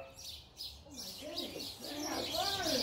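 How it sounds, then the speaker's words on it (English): A bird flies close past in a vegetable garden and calls out several times, giving quick chirps and coo-like notes that grow louder and denser, with faint wind and voices in the background. "That bird flew right by my head."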